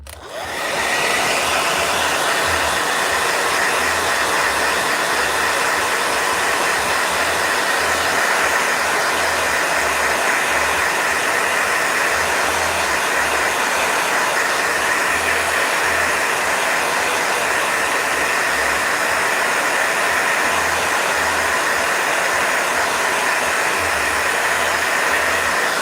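A blow dryer running continuously for over twenty seconds, a loud, steady whooshing roar with a low motor hum underneath and no pauses or talking.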